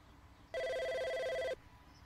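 A phone rings once with a blocked call, an electronic ring lasting about a second. It is loud and steady against a quiet room, with no speech.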